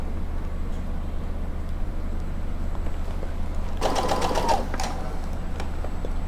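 A sewing machine stitches a patch pocket with a flap in a short burst of about a second, rising over a steady low room hum and then stopping.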